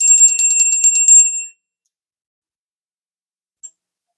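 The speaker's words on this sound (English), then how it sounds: "So we're going to ring the bell here, call in spirit" A small bell rings before a tarot reading, a rapid bright trill that rattles for about a second and a half and then stops, followed by one faint ting.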